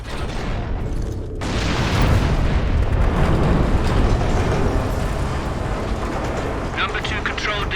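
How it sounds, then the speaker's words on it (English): An Ork cannon shot in the Space Marine video game blasts loudly and heavily, a deep roaring boom that builds and sustains into a rumbling wash, with a voice speaking over it. "Even a single shot will blast right through the gates."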